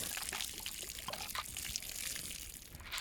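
Water dumping and pouring from a water-filled ball outdoors in summer, a steady splashing trickle with brief brighter gushes, fairly quiet and continuous with no talk.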